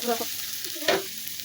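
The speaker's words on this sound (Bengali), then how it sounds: "পেঁয়াজ কুচিগুলোকে ভেজে নেব কিছুটা" Chopped onions fry in oil in a wok with a close, steady sizzle, broken by a couple of short scraping stirs.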